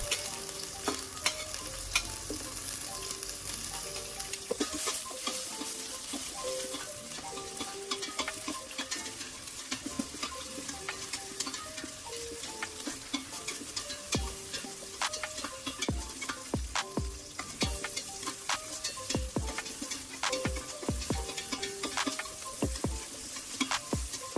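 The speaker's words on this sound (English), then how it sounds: "Put 5 tablespoons of oil in a big pot and start off with your green onion heads." Green onion heads frying in about five tablespoons of oil in a big pot, with a steady crackling sizzle, scattered sharp pops and occasional stirring scrapes, with no speech.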